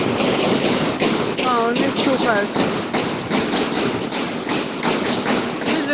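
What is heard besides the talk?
people knocking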